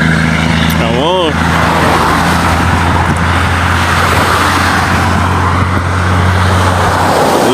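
A loaded truck in Jamaica rolls out with a steady, loud engine rumble and road noise throughout, close by, while a brief upward-sweeping whine is heard near the start and people talk nearby.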